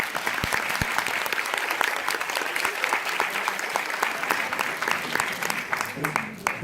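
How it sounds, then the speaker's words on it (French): Audience clapping at a university campus ceremony announcing participatory budget results, sustained and fairly close with some sharp individual claps standing out from the steady patter. "On peut l'applaudir."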